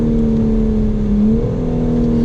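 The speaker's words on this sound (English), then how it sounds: "this engine, the S58, 3-litre, inline-6, twin turbo" A BMW M4 Competition's S58 3-litre twin-turbo inline-six hums at a steady, loud rev with a smooth tone that shifts pitch slightly midway, heard close and alone.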